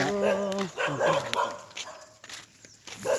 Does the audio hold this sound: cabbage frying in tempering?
no